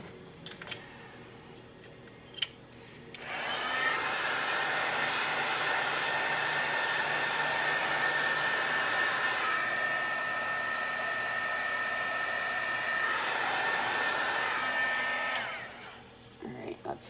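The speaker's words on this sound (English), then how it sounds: "I'll hit this one with the heat gun real quick." A heat gun blows hot air over a handmade card, a steady loud whooshing roar that starts after a few quiet seconds, holds for about twelve seconds, then cuts off.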